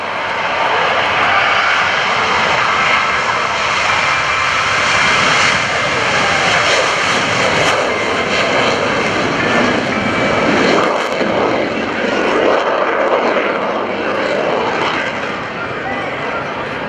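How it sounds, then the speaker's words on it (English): US Navy Blue Angels jets roar loudly down the runway and climb away at the 2015 NAS Oceana airshow, a sustained, powerful engine rumble over a public-address announcer talking. "Blue Angels 5 and 6 are rolling."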